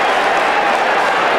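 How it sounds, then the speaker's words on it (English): Crowd at a 1994 Australian football match between Hawthorn and Adelaide, giving a loud, dense ironical cheer and applause as the umpire collides with a player and falls, a continuous roar with no talk. "down goes the umpire as he runs into Hudson, which brings an ironical cheer"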